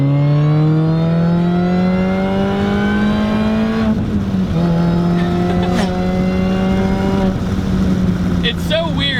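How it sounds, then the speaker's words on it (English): A supercharged Mini Cooper S four-cylinder engine revs close and loud with a raspy, rising tone. It climbs through gears with brief breaks at the shifts, and a voice talks faintly over it. "It's so weird because it has like that very signature 4-cylinder sound you get out the back, right? Just kind of raspy, 4-banger, low displacement."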